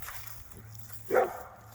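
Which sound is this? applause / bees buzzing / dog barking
dog barking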